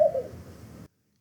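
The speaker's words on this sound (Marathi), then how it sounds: "ह्याचा आवाज कुणीतरी हळूच हसल्यासारखा येत असतो" A laughing dove gives a single short, soft cooing call, close and clear, that cuts off abruptly after less than a second and leaves silence.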